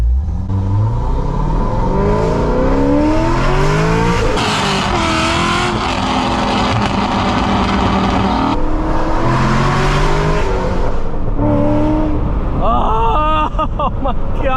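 A Chevrolet Corvette C6 Grand Sport driven hard, its engine roaring loud and close as it climbs through the revs and shifts, with brief tire squeals near the end and a voice faintly under the noise.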